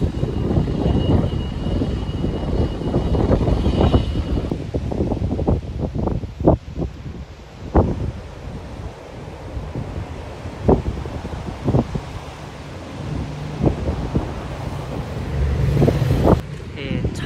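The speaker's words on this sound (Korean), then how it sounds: "바람 세네요." Strong outdoor wind gusts roar and buffet the microphone in loud bursts through the whole stretch, with occasional thumps and a person talking now and then.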